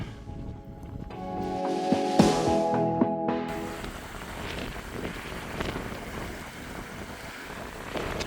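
Strong wind roars across a mountain path up Bynack More in the Cairngorms, Scotland, a loud, rough broadband rush buffeting the microphone that takes over after a few quieter seconds.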